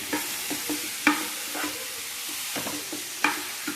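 Plantain frying in ghee, giving a steady sizzle that a spoon breaks up with several sharp clinks and scrapes as it stirs the pieces around the pan.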